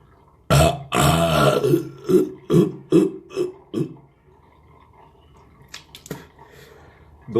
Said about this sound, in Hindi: ये डकार नेचुरल आती है।